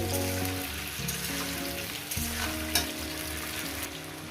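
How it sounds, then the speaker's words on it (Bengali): Onions fry in a pan for a cauliflower and potato posto dish, a continuous close, bright sizzle with light stirring noises, playing under background music. "পেঁয়াজ দিই এত সুন্দর করে ভাজবো ততটাই ভালো"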